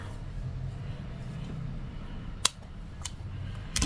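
Scissors snip paper pieces for a scrapbooking treat box, a few sharp isolated cuts spaced apart over a quiet background hum, close by.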